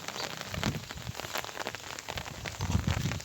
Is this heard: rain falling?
yes